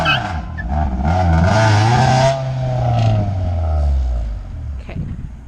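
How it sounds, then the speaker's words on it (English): A Honda CR-V engine with a loose spark plug wire revs up in a sustained rising and falling pull, then sputters unevenly as it misfires, loud and close. "I think one of my spark plug wires isn't really hooked up, because it's got some misfiring going on right now"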